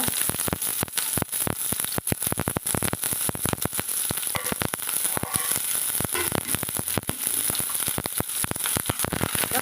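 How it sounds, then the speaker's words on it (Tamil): Mustard seeds pop and crackle in hot oil as onions and curry leaves saute, a loud, dense burst of sharp close crackles and spits running continuously over a steady sizzle. "கடுகு பொரிஞ்சதும் வெங்காயத்தை வெங்காயம் கருவேப்பில் போட்டுக்கிறேங்க"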